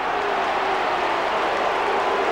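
A rugby league stadium crowd roars in a broad, continuous swell of voices calling for a penalty, loud and unbroken across the whole stretch with no individual words distinguishable.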